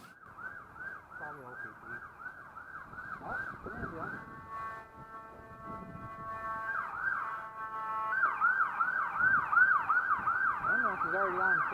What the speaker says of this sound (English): another ambulance comes by.